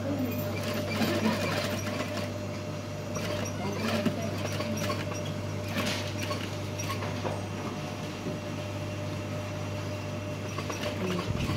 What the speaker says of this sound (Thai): จะเย็บจากนู้นลงมาก็ได้ จะเย็บจากนี้ไปก็ได้หมด